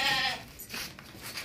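A large, tall male goat with two teeth bleats loudly and close by, one strained call followed by a shorter second cry.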